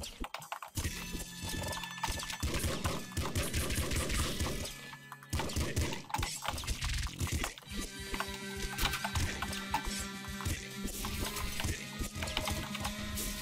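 Rapid, rattling SMG fire in the video game Nuclear Throne, heard as repeated fast bursts of clattering shots with brief pauses between them, over a continuous game soundtrack.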